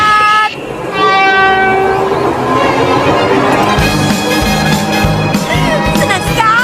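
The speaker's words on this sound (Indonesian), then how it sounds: "Kereta tram Nobita, berangkat!" An animated cartoon tram's horn blares loudly with layered tones as it rolls off, wheels rumbling and clattering beneath, sustained and close throughout.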